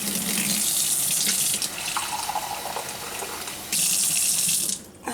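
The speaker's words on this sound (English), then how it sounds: "I'm just going to go over here to the sink, and I'm just going to put a little bit of cool water in here." Cool water runs from a sink tap into a measuring cup, a steady loud hiss and splash that dips briefly as the flow shifts, then stops near the end.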